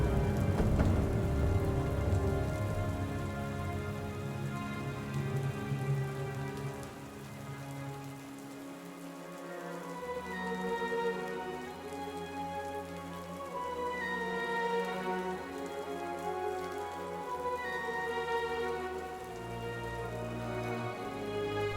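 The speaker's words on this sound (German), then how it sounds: "Auch wenn es jetzt gerade schon wieder anfängt zu regnen." Steady rain falls on a mountain hike in the Karwendel Alps, an even, continuous patter close around the listener with no voices, holding at a constant moderate level throughout.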